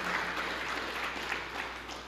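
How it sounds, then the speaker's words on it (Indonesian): A church congregation applauds during a sermon, a dense, steady wash of clapping from many hands that carries on without a break. "Yang setuju berikan tepuk tangan yang meriah."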